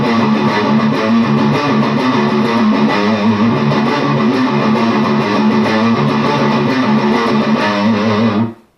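Heavily distorted electric guitar plays a riff from Doom, loud and continuous with driving palm-muted chugs, ringing to an abrupt stop at the end.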